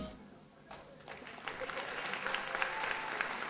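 Audience applause for a KVN comedy team at a 2012 stage contest, quiet at first and then swelling into steady, dense clapping from a large hall.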